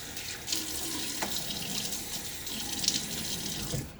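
Water runs from a sink tap as a face is splashed before a shave, steady close faucet flow with soft splashes and cupped-hand slaps, no voices.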